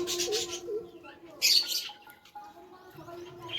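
A pigeon visiting a housing colony coos softly at close range in a few short, wavering calls, with brief sharper chirps and rustles breaking in between.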